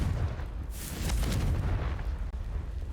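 Confringo spell blast in the Hogwarts Legacy video game, a loud, booming fiery explosion that swells and rumbles for a few seconds, thick with low-end roar.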